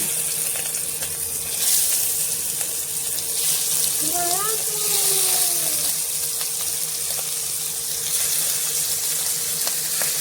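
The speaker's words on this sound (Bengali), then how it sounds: "তেল গরম হয়ে গেছে। এবার চিংড়ি মাছগুলো ভেজে নেব।" Steady hiss and sizzle of shrimp frying in hot mustard oil fills the clip, with a brief voice-like tone in the middle.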